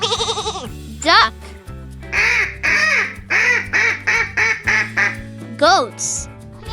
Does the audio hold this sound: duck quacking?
yes